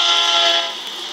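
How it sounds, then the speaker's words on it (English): A train horn honks in the video game Crossy Road, a sustained bright blare held steadily for over a second, loud and close, easing slightly toward the end with no speech over it. "Stop honking at me."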